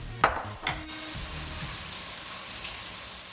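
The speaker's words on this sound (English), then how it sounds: "I'm gonna give it a chance to garlic to roast and get sauteed with the rest of the vegetables" Garlic sautéing with vegetables in a pot for cabbage soup, a steady soft sizzle with a couple of brief stirring clatters near the start, no talking.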